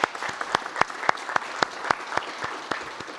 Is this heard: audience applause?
yes